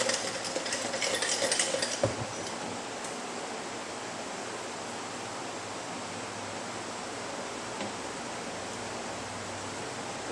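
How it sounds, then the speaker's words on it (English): A paint spray gun is dropped into a container of thinner and shaken around to clean it. A brief burst of sloshing and rattling comes first, then a steady wash of liquid noise that holds until the end. "I'll drop the whole gun in, work it down to the bottom, shake the thinner around on it."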